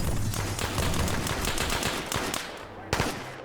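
Bursts of automatic gunfire in a military video game set in a Russian 2020 campaign, rapid dense rattling shots for several seconds with a sharp single report near the end, shouted voices mixed in.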